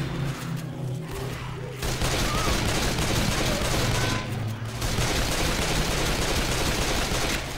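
Pistol fire in the zombie shooter Left 4 Dead 2, with dense, continuous bursts of gunshots under a constant loud game din, dipping briefly twice.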